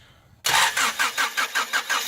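An old Honda Prelude engine is cranked with a starter cable from the fuse box. After a quiet moment the starter kicks in abruptly, churning loudly in quick, even pulses, close up and without talk.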